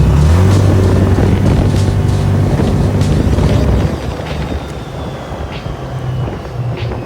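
A Can-Am HD10 utility side-by-side with a 1000cc engine runs loud and steady in cold weather, its low engine drone mixed with wind buffeting, then easing to a quieter rumble partway through.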